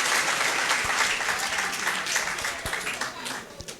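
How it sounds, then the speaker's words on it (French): An audience at a student press week award ceremony applauds in a dense, continuous round that thins slightly toward the end, with scattered individual claps standing out. "Ça s'applaudit."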